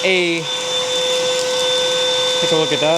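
Black+Decker Dustbuster Flex handheld bagless vacuum running with a steady, loud motor whine throughout, with a person speaking briefly over it near the start and end.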